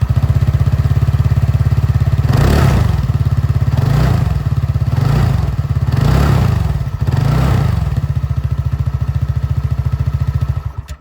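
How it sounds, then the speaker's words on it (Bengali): A TVS Ntorq 150 scooter's exhaust putters loudly at idle up close, then five quick throttle blips in a row rise and fall before it drops to idle and shuts off near the end. "আপনাদেরকে আমি এখানে এন্টর্কের আওয়াজটাও একবার শুনিয়ে দিই।"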